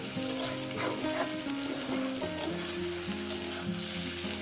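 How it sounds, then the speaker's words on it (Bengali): Egg frying with ridge gourd in a pan over a medium gas flame gives a steady, close, continuous sizzle and crackle throughout, with a melodic tune playing underneath and no talking. "ডিমটা একটু কড়া করে ভাজবেন একটু এই নরম নরম থাকে খেতে ভালো লাগে আর একদমই ভাজবো গ্যাসটাকে মিডিয়ামে রেখে"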